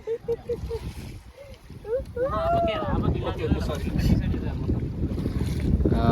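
A motorboat engine drones steadily over the Srisailam reservoir with wind buffeting the microphone, while people talk nearby throughout.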